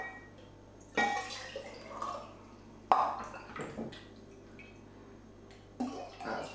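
Water poured into a measuring cup in short separate bursts while making a soap-bubble solution, each pour a quiet splashing trickle with small clinks of the cup in a calm room.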